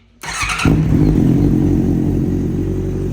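A 2014 Honda CB650F with an SC aftermarket exhaust starts up close by: a brief starter whirr, then the engine catches and settles into a loud, steady, deep idle rumble.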